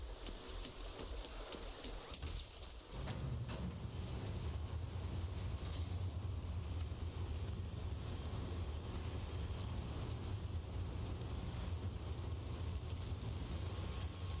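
A train rolling along in Zenless Zone Zero as a steady, loud low rumble with a constant mechanical hum, starting after a brief softer opening and holding evenly to the end, with no talking.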